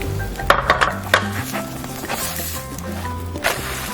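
Egg and sliced bread toast frying in a pan, a close crackling sizzle with several sharp clinks and scrapes of a utensil against the pan early on, then steady frying.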